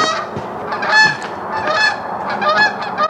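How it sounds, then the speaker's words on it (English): Canada geese flying past over a ranch honk repeatedly and loudly, several birds calling over one another in a busy, overlapping chorus. "Some Canada geese going by"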